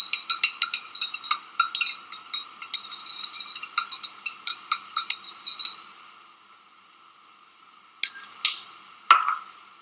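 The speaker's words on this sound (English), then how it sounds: "And you stir by the glass rod." A glass rod clinks repeatedly against a glass while stirring a homemade hand sanitizer mixture, quick rhythmic taps for several seconds, then a pause and a few final clinks, close and clear with no talk.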